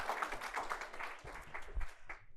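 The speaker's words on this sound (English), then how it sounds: "how about a round of applause for Kathleen, too, as she ascends the stage" An audience at a university Grad Slam event claps in a steady, fairly quiet round of applause as a speaker walks up to the stage. A few heavier thumps, like footsteps, come through near the end.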